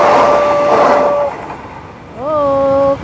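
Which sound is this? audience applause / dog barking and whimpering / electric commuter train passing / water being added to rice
electric commuter train passing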